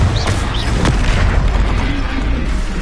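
Confringo fire spell explosions in Hogwarts Legacy, loud booming blasts with crackling bursts layered over a dense rumbling background.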